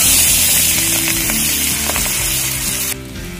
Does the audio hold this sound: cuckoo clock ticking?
no